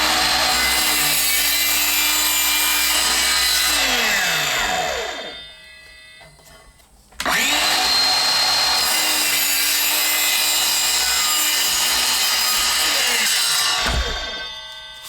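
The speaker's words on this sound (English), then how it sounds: "I hate cutting PVC" A hand saw cuts through PVC drain pipe in two long bouts of steady back-and-forth rasping strokes, loud and close, with a short pause between them. The sawing ends with the pipe piece dropping off during work on a bathroom drain.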